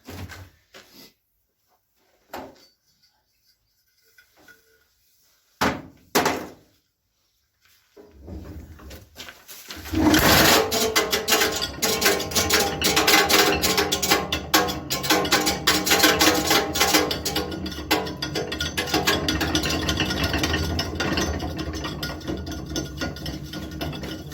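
A 1950s Briggs and Stratton 23FB engine, first giving a few sparse knocks and pops, then catching and running roughly for about fourteen seconds with a loud, close, sputtering clatter.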